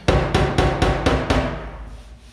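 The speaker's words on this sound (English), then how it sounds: "I'm going to use a pick hammer or something like that just to" Six quick, evenly spaced metallic pick hammer taps ring out close by, tapping out a dent, then the ringing fades away.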